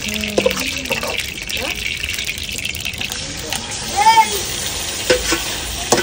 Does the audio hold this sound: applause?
no